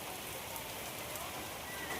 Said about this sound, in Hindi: बारिश तिरछी हो रही है, सारा तेज तेज पानी आ रहा है